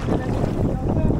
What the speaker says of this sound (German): Der Wind ist wirklich unerbittlich.